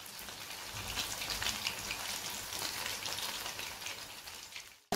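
Prawns fry in hot oil with a dense, crackling sizzle that holds steady and close for several seconds before ending abruptly.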